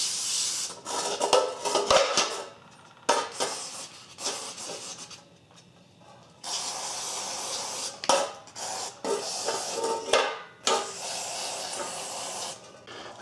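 Brake cleaner hisses out of an aerosol can in bursts onto Ford Ranger window regulator parts to strip old grease, close and loud, with short pauses and rubbing scrapes between sprays.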